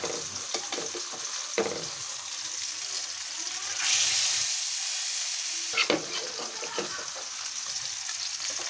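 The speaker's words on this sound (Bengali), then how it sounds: "মাছগুলো আমি এক এক করে ভাজা নিব" Fish pieces fry in a pan with a continuous soft sizzle, a few sharp clatters and a swelling hiss partway through as more oil spatters, fairly quiet with no talking.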